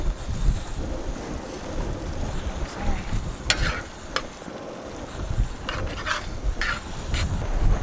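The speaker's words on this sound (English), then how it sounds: "the wind is blowing from the back side of where we're at now" Gusty wind blowing outdoors at a sandy campsite in southern Colorado during a snow storm, a rough, rumbling buffeting against the microphone with fluctuating loudness, mixed with scattered clinks of dishes and brief sharp knocks.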